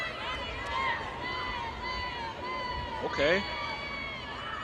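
Fans at a chilly outdoor ultimate frisbee game between the Oregon Onyx and Seattle Tempest murmur and cheer in a continuous crowd hum beneath a commentator's voice, with a brief swell of shouting near the end.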